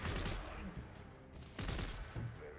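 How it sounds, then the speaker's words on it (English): Gunfire in the video game Dead Space 3, several loud booming bursts of shots with crackling debris, spaced in clusters across the moment, close and harsh. "We're in gunfights now."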